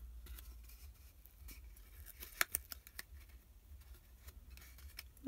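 Scissors trimming paper for a Stampin' Up daisy gift box, heard as a few faint, close snips and light paper rustles in a quiet room.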